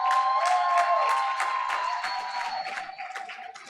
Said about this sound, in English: Now let's give a big SBCUSD round of applause as we welcome Sierra High School